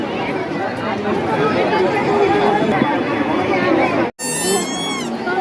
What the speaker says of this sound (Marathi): इकडे गर्दी बघा इकडे फुल गर्दी